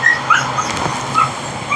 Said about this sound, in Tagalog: Ito yung aso.